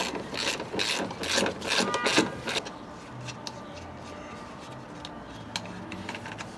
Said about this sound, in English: Now I'm gonna work on removing the top three 13mm nuts